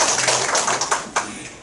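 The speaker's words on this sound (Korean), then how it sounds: "우리 한 번 더 축하의 박수로 축하합니다." A church congregation at a Korean Sunday worship service claps in celebration, a close, brisk burst of many hands with uneven sharp accents that lasts under two seconds.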